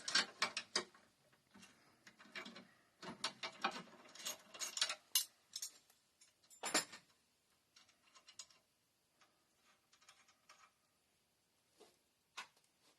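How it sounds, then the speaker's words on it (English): A 13 mm wrench loosens the nuts on the shocks of a Cascadia heat press, giving bursts of close metallic ratcheting clicks and scraping in irregular clusters, loud at first and then thinning to sparse single clicks. "you'll hold this side here and you'll loosen up these 2 nuts on the shocks on both sides"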